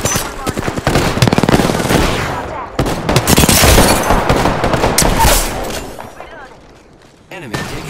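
Rapid, loud bursts of automatic gunfire in a video game battle crackle almost nonstop and close, easing briefly before resuming and then tapering off near the end.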